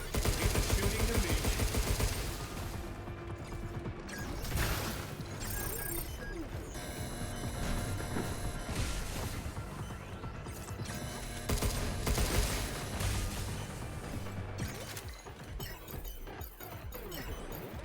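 Sustained gunfire in the video game Pragmata, dense rapid shots mixed with metallic clanks, crashes and game effects, fairly steady and loud throughout with brief lulls, no talk heard.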